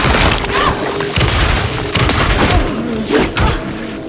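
Shotgun blasts in the video game Alan Wake 2, with loud, booming reports and heavy thuds that come in quick succession over a dense, rumbling game soundscape.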